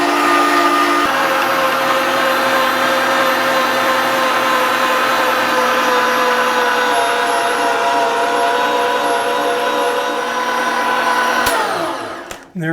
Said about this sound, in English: what we're going to do is drop this into my grinder